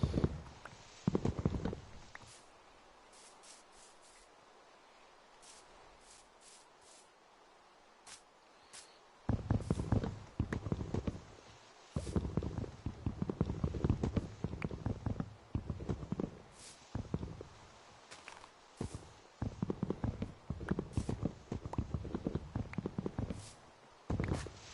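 Horse hooves clip-clop across a block world in Minecraft, with irregular bursts of hoof steps that come and go, moderately close, after a quieter opening stretch.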